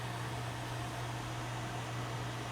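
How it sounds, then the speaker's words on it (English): A nail polish dryer runs steadily after a toenail polish, giving a constant fan-like whir with a low steady hum, alone and unchanging throughout. "we're gonna turn the dryer off"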